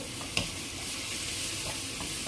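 Dried pollock, lightly soaked in water, stir-fries in sesame oil for a pollock soup, giving a dense, even sizzle close by with a faint scrape of stirring.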